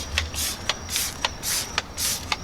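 A spray bottle of cleaner fires onto aluminum and chrome wheels in four quick, evenly spaced hissing bursts, each with a sharp trigger click, close and loud.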